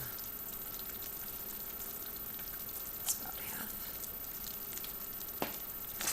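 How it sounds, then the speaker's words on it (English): Pecans and marshmallow cream are stirred into hot pumpkin fudge in a pot, giving a soft, steady bubbling sizzle with a couple of brief scraping clicks, close and fairly quiet. "Stir this in quickly, get everything to melt together."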